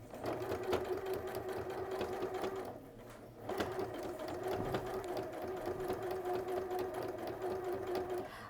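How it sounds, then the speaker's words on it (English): A sewing machine stitching a quarter-inch seam through five layers of a quilt at stitch length 3, with a steady close whirring hum, a brief pause in the middle, then stitching resumes. "This is a 1/4 of an inch seam I'm sewing."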